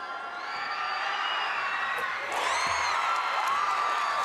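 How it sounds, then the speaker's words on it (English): Wahoo fans cheering and whooping in a gym during a girls' state championship basketball game, a steady crowd roar with scattered shrill yells and whistles rising partway through. "a good round of applause by the Wahoo fans for Sadie Murn"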